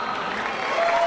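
A church congregation gives strong applause, a dense steady patter of many hands filling a large hall, briefly carried on without voices.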